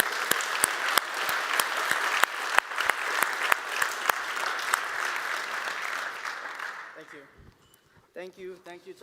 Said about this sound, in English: A big applause for Michel.